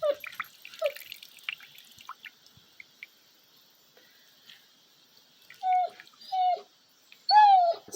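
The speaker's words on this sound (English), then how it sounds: "I think it's finally cooled off enough to squeeze it out into the cup." Distilled water being squeezed out and dripping into a cup, heard as scattered small drips and wet squishes, then a few louder, close liquid splashes near the end.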